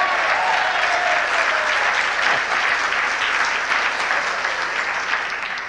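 An audience at an inspirational talk claps loudly and continuously, a thick, close wash of applause from a large crowd that tapers slightly toward the end.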